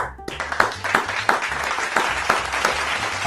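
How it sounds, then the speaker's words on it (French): A crowd at a factory inauguration event in Burkina Faso applauds steadily, a dense continuous clatter of hands with regular louder claps punching through roughly every third of a second, as if partly in rhythm. "Applaudissez pour lui, applaudissez."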